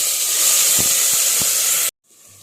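Ginger garlic paste hits hot ghee in a pressure cooker with a loud, steady sizzle and steamy hiss, a couple of soft knocks inside, then the sound cuts off abruptly before a fainter hiss resumes.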